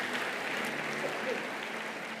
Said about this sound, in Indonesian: kasih tepuk tangan yang paling meriah buat Allah kita